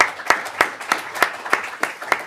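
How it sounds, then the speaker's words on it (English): Audience applause at an LSE Festival talk on green, just and healthy cities: sparse, rhythmic claps at a steady beat of about three per second, moderately close. "So let's give a massive round of applause to all three partners"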